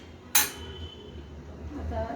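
A metal ladle stirring kadhi in a pot, giving one sharp clink followed by softer scraping against the pot under a low background hum.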